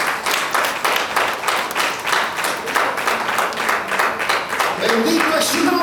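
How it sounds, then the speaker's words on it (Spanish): A congregation applauds at a church service, steady rhythmic clapping from many hands that is loud and sustained, with voices mixed in underneath. "Dale un aplauso al Señor."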